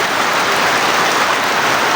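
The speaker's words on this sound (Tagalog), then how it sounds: "Sobrang lakas na naman ng ulan dito sa amin" Heavy rain pours steadily onto a flooding backyard, a dense, loud hiss of water with no pauses and no voices.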